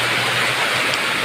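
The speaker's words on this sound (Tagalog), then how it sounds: "Mahigit kalahating oras na yan na ulan." Heavy rain pours down outdoors in Laguna on a hot day, a loud, dense, unbroken roar of falling water with no voices.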